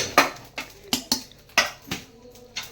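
Coconut roasts in a pan, with a spatula scraping and knocking against the metal in about eight quick, rhythmic strokes, close and clear.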